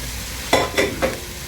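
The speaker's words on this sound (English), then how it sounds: "So I'm just going to add in the peas." Peas go into minced meat frying in a pan for pasta, followed by three quick, close stirring scrapes over a steady sizzle.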